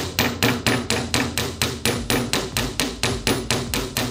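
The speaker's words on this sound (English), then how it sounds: "Now I'm just going to hammer this out" Hammer striking jewelry wire to flatten its end into a paddle: about fifteen evenly spaced, sharp metallic blows in a quick steady rhythm, loud and close, with no talking.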